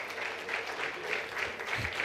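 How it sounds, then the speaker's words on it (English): Applause from an audience at a Founder's Day celebration at Christian Medical College & Hospital: a steady, dense wash of clapping that holds at an even level for the whole two seconds, with no voices over it. "Let's stand and give a round of applause."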